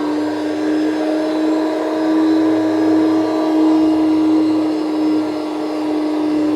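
A pipe threading machine cuts thread on galvanized pipe with oil applied to the die, a loud, steady motor hum and whine with a constant tone throughout, no voices.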